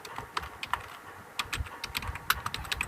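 C code is typed on a computer keyboard in uneven runs of crisp, close key clicks with short gaps, moderately loud over faint low background hum, and no speech.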